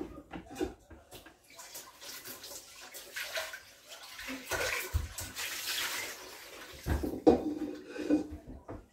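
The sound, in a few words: washing snails in running water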